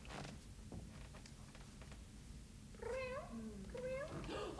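During a party charades game, a person imitates a cat with a few faint, drawn-out, wavering meows that come after a quiet stretch.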